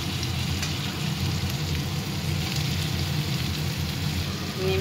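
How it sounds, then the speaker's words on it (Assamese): Chopped ridge gourd frying in a pan, a steady, dense sizzle running loud and unbroken from start to finish with no voices. "এতিয়া মই কাটি থোৱা জিকাখিনি দি"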